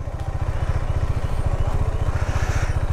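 A motorcycle engine idles close by with a steady, rapid low chugging pulse while the bike is being parked, no voices over it.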